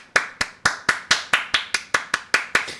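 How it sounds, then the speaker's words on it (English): Steady hand clapping at a regular beat, about eleven sharp claps in under three seconds, close and dry with no talking, more like one or a few people than a crowd. "clap with me so it doesn't sound like I'm clapping myself"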